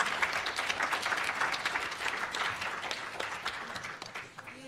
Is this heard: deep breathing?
no